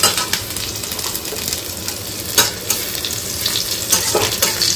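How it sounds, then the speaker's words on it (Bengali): Crushed ginger sizzling and frying in a pan of hot oil, a steady loud crackle with occasional scrapes and stirring clinks of a utensil against the pan, no voices. "ভালো করে ভেজে নিই।"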